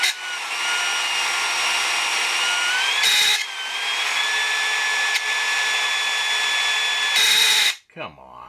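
A battery drill whines steadily while lapping an AR barrel interface with a Brownell's tool, its pitch rising and falling over several seconds, with brief pauses before it stops.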